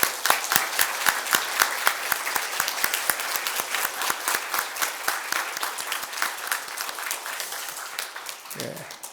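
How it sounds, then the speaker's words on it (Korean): A church congregation applauds at a Christmas service, sustained, dense clapping from many hands, steady and loud for several seconds before fading, with a brief voice near the end. "우리 하나님 앞에 크게 진심으로 최대로 영광의 박수를 돌리겠습니다."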